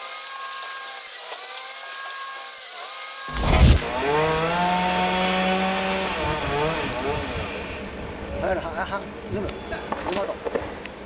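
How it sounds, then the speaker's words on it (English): A carbide-tooth slasher saw on a log-processing machine cuts through logs with a loud mechanical roar and whine that starts abruptly after a quieter stretch, with clattering and knocking as the logs move. "its cutting system, which utilizes a carbide tooth slasher saw capable of cutting logs up to 27 inches in diameter"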